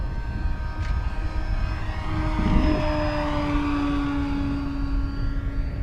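An FMS de Havilland Beaver 2000mm RC model floatplane flies with a steady propeller and electric motor drone, moderately distant, holding a sustained whine that shifts slightly in pitch as it passes.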